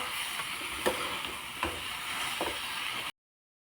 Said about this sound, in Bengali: এখন নাড়াচাড়া করে নিব।